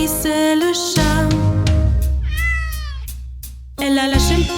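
Cat meows appear in a children's nursery-rhyme song, with a few drawn-out, wavering mews sounding loud and close between bright sung and instrumental phrases.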